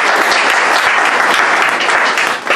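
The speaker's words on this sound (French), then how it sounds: "Moi, je vous demande de bien l'applaudir encore une fois." An audience at an association meeting applauds a newly elected president, with dense, steady clapping that stays loud throughout and eases slightly near the end.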